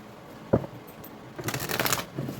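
An oracle card deck is shuffled by hand: a single soft tap, then a quick half-second riffle of cards close by in a quiet room.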